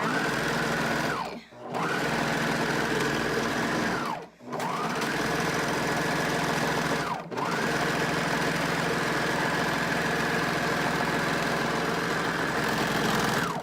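A serger stitching the underarm seam of a garment runs in a continuous high, steady whir, close and loud, dipping briefly three times as it slows between passes.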